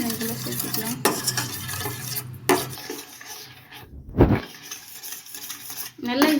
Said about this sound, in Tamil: கைவிடாமல் கிளறிட்டே இருந்தோம்